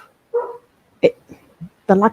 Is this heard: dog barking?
yes